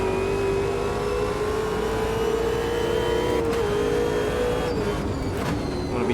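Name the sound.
Supercar engine accelerating at Mount Panorama in video game Automobilista 2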